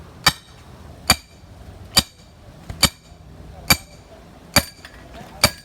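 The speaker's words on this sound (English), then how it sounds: "You'll then get a hammer and sledge that down all the way." A hammer drives a tent peg into the ground to secure a strap, with seven sharp, evenly spaced strikes ringing out loud and close under quiet background noise.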